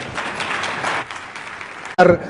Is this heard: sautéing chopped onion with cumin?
no